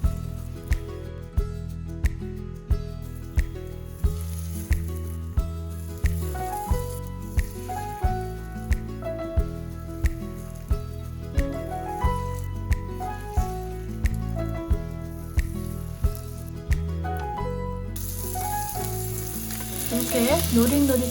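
Korean jeon dipped in batter sizzles in a generously oiled pan, a steady frying hiss under a rhythmic background music track, with the crackle growing brighter toward the end.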